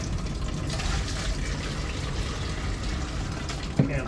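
Water drips and trickles from an unscrewed 5-micron sediment filter housing during a DIY water filter replacement, a steady wet patter and splash running through the whole stretch with a brief louder knock near the end.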